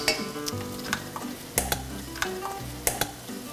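Two garlic cloves sizzle in a hot pan with a steady hiss, and a utensil scrapes and taps now and then as it stirs, close by, with no voices.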